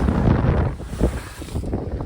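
Gusty wind buffets a reefed sailboat out at sea, a loud, rumbling roar that surges and eases in uneven gusts, with the rush of water beneath and no voices.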